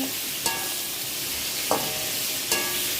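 Tomatoes sautéing in a pan for mango and coconut-milk fish curry make a constant bright sizzle, with three crisp spatula scrapes spaced about a second apart, near and without talk.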